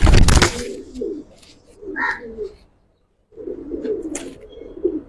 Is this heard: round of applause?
no